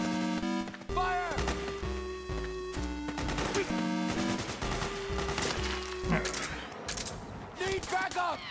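Gunfire in the Metal Gear Solid 4 battlefield, with rapid bursts of shots and cracking impacts layered under a sustained musical score and occasional shouting voices.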